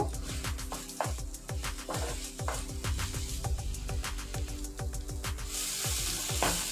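Chopped tomato, salt and spice masala sizzle steadily in a pan, close up, while a spatula repeatedly scrapes and clinks against the metal as the mixture is stirred.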